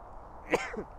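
A single short, sharp sneeze bursts out close by against a quiet background, followed by a faint trailing voice.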